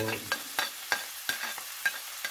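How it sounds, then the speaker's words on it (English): Onion going into hot oil for kofta curry, a bright broadband sizzle punctuated by sharp pops and crackles at irregular intervals, close and without talk. "I'm going to add onion into hot oil."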